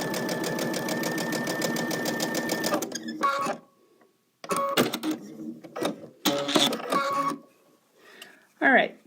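Sewing machine stitching seams on a quilt block, a steady fast mechanical chatter for about three seconds, then short bursts of stitching separated by silences, with a voice speaking in the gaps.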